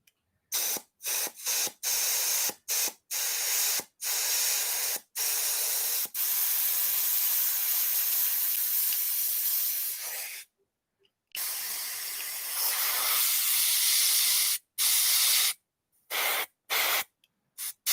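An airbrush sprays paint onto an RC10T6.1 body in steady bursts of loud hiss, some short and some running for several seconds, with brief silent pauses between them.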